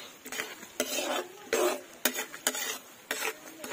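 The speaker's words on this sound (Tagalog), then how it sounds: "Lagyan tayo ng sibuyas. Golden sibuyas" Chopped onions sautéing in butter in a pan, stirred with a utensil that scrapes and clinks against the metal at irregular intervals over a soft sizzle, close by.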